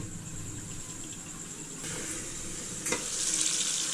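Local chicken meat and potatoes cook in a pan, giving a steady broadband sizzle that stays alone and fairly constant, with a couple of brief clatters and a slight rise in intensity toward the end.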